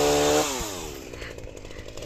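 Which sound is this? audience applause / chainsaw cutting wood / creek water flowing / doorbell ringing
chainsaw cutting wood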